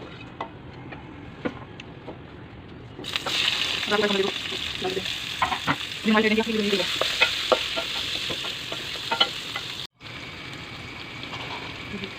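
Onions and cumin frying in a pan, a steady close sizzle with stirring scrapes that grows louder midway and breaks off briefly near the end.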